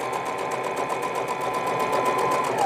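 A sewing machine runs steadily while stitching the side seam of a baby frock, a continuous fast rhythmic whir close by with no pauses.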